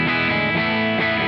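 Clean electric guitar through a Crazy Tube Circuits Hi Power pedal setup, played with low-output, vintage-voiced pickups; strummed chords ring out steadily and up close, restruck about three times, with no talk.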